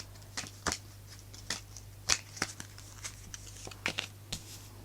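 A deck of tarot cards is shuffled by hand close by: soft, irregular flicks and riffling clicks, faint over a low steady hum, with no talking.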